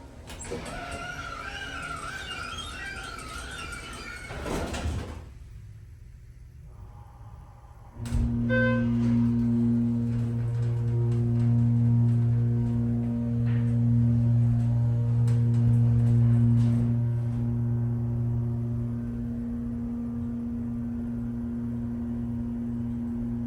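The door of a Schindler 330A hydraulic elevator in a Crate & Barrel store lets out a loud, wavering squeal for several seconds, then gives way to a steady low hum from the lift.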